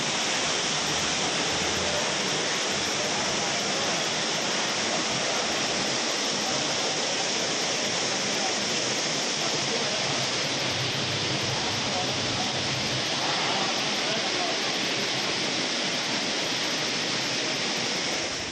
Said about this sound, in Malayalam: മഴവെള്ളപ്പാച്ചിലും ശക്തമാണ്.